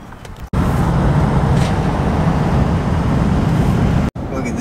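Steady road noise from a pickup truck with a cap driving along a road in the White Mountains of New Hampshire, a loud continuous low rumble heard from inside, with sharp cuts at the start and end.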